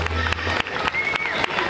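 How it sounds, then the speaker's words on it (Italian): An audience applauds after a live band performance, with dense steady clapping from a crowd at moderate distance lasting a couple of seconds. "Un applauso, ragazzi, è molto gradito"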